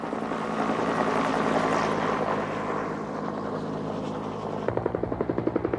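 Firefighting helicopters carrying water buckets of 250 gallons pass with a loud, dense rotor roar that gives way to a clear rhythmic blade chop toward the end, with no talking.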